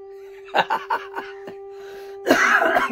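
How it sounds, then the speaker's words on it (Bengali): A person coughs in a quick series of four or five sharp bursts, close and fairly loud over a steady electrical hum, followed by a louder rush of breath or voice noise. "বলতে বলতে আমার কাশি চলে আসছে।"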